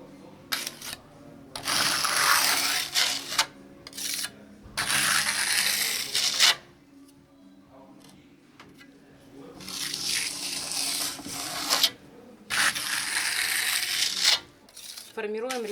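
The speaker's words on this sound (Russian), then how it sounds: "мы также прикладываем кельму и тащим" A steel trowel scrapes and drags across wet plaster while a two-tone travertine texture is formed, giving long close rasping strokes separated by short quiet gaps, with no talking.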